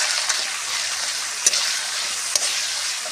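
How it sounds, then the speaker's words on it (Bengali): Prawns tossed with turmeric fry in hot oil, making a steady close sizzle, with a couple of sharp clinks of a utensil against the pan. "চিংড়ির মধ্যে সামান্য পরিমাণ আমি একটু হলুদ গুঁড়ো মিশিয়ে দেব, দিয়ে ভালো করে চিংড়ি মাছটা ভেজে নেব।"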